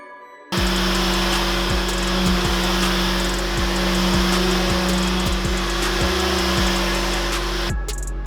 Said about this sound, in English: finally finished up with a buffing to 400 grit with an orbital sander